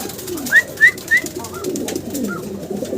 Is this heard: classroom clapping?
no